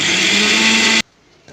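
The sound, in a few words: mixer grinder coarsely grinding ingredients for curry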